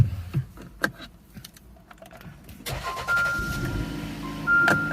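A 2019 Jeep Compass Limited 4x4 with the 2.4 MultiAir engine cranks and starts after a few faint clicks, then settles into a steady idle with a whining tone. It sounds close, and no one speaks.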